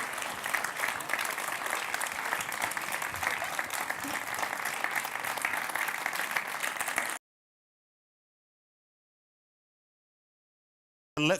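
Award winners at the European Youth Award Gala 2014 receive loud, dense crowd applause that runs steadily for about seven seconds and then cuts off to silence, with a brief burst of sound returning at the very end.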